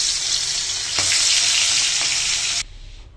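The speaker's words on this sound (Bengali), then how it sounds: "এখন ছেড়ে দেবো চিংড়ি মাছগুলো।" Prawns hit hot oil in a wok and set off a loud, steady sizzle that swells briefly and then drops away sharply near the end.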